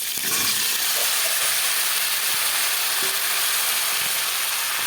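Potatoes with turmeric fry in a pan as cauliflower is added, making a soft continuous sizzle and hiss with a few faint clinks and stirs, close and even, no voices.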